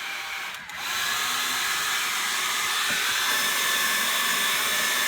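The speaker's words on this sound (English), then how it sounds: "It's a regular hair dryer. And you just want to blow this dry." A regular household hair dryer blows steadily to dry a chalk couture design, a continuous whirring rush of air that starts after a brief dip and holds loud and close throughout, with no talking.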